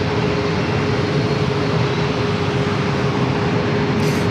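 A JetBlue Airbus A321 bound for Boston departs San Diego airport with a loud, steady broadband jet roar and a faint sustained hum beneath, continuous and close throughout.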